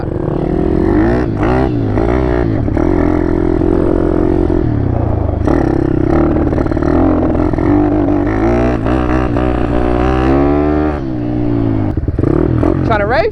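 A two-stroke quad engine revs loud and close throughout a ride, its harmonic whine rising and falling with throttle as voices talk over it.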